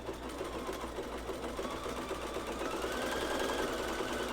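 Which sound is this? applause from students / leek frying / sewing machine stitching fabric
sewing machine stitching fabric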